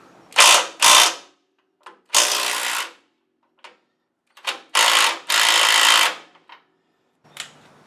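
Ratchet clicks in short bursts, loud and close, while lower control arm bolts are loosened on a classic Pontiac Firebird front suspension, with separate quick clusters and longer runs of rapid clicking between pauses.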